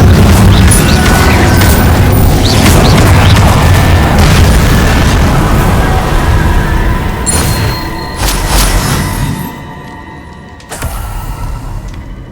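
An Incendio fire spell cast in Hogwarts Legacy erupts as a loud, sustained booming roar of flame that fades slightly toward the end, with no talk.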